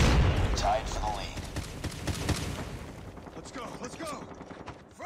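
Semi-automatic CR-56 AMAX rifle fire in Call of Duty Mobile, several sharp loud shots close together at the start, then fading into reverberant tails and in-game effects as the action continues.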